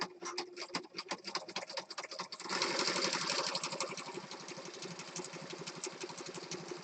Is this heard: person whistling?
no